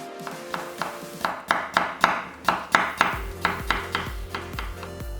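A knife slicing a halved cucumber into 0.5 cm pieces on a board, a steady run of crisp, evenly spaced chops over soft background music.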